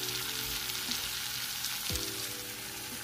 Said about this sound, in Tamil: இது 2-3 நிமிஷம் நல்லா எண்ணெயில வதங்கட்டும்.